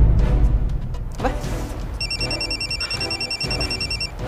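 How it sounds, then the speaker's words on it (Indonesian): A telephone rings with a rapid electronic warbling trill, repeating in steady bursts over a couple of seconds after some background noise. "Saya tinggal angkat telepon dulu ya."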